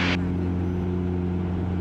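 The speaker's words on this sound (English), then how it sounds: "Airplane's flying" Steady propeller drone of an RV-8 experimental airplane engine in flight at full power climb, a loud continuous hum with strong even harmonics, heard close from the cabin with no talk.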